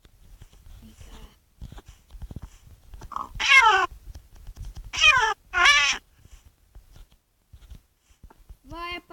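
Minecraft cats meow several times in short, clear bursts between quiet gaps, with faint game sounds in the background.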